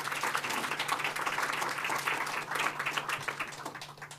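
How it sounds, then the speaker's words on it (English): Steady applause from a crowd, dense overlapping claps sustained at an even level throughout without pause. "So could I get a round of applause for my wonderful council?"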